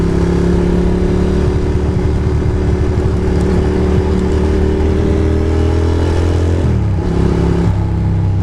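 A Ducati Monster motorcycle ridden on a wet, cold January road gives a loud, steady engine drone from the rider's position, with a pitch shift near the end as the revs change, and no talking.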